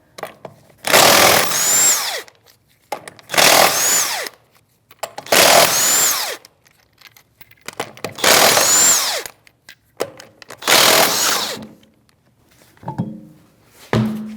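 A power tool with a 19mm socket spins off the rear wheel lug nuts of a Chevrolet Malibu, five loud close bursts of rattling whir separated by short pauses, followed by a few faint clinks.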